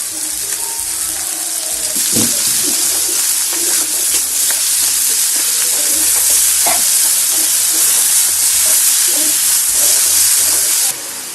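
Ivy gourd (dondakaya) sizzles steadily in a hot pan, with scraping stirs and clatters against the metal running through the near, continuous frying hiss.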